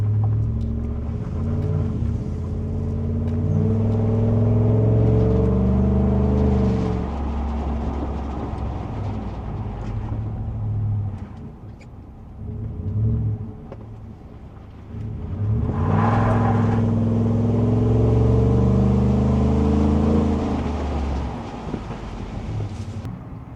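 A Ford F150 pickup drives with a low engine rumble that rises and falls, dipping briefly midway before swelling again, heard from inside the cab with no talking.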